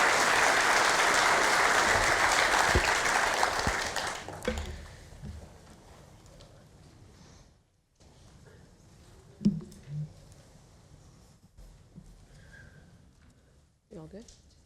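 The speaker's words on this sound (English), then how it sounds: "I'd ask that for a round of applause for those individuals that have come on their behalf." A crowd applauds at a citizen award ceremony, loud and dense for about four seconds before tapering off. Scattered small noises and brief bits of talk follow in a quieter room.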